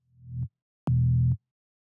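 Two sustained synth wavetable notes from a dubstep patch with FM from oscillator B, the first swelling in gradually and the second starting abruptly, both bass-heavy with a buzzy harmonic layer and no talking.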